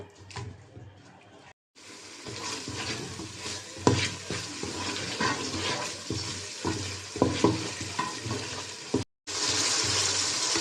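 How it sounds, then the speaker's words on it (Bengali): Dried fish and spices with a splash of water are sautéed and stirred in a pan, giving a steady close sizzle with scraping strokes. The sound cuts out briefly near the start and again near the end. "মশলা আর শুটকি একসাথে কষাই নেব"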